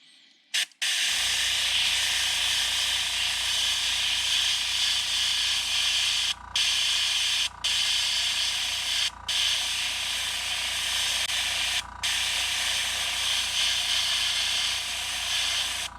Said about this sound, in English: Make sure you do a quick heat set. Doesn't take a lot with a heat gun.